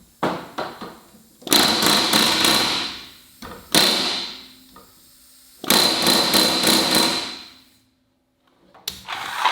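Pneumatic rivet gun driving rivets into a Land Rover Series 3 seat box, several loud sustained rattling bursts of about one to two seconds each, separated by brief pauses and lighter taps, close up.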